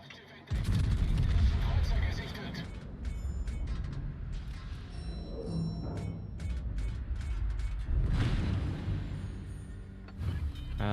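Battleship gunfire and shell impacts in the World of Warships naval game, including a Musashi hit knocking out a turret on a Tier 9 German battleship: heavy booming salvos and mechanical clanks layered with game sounds and a talking voice.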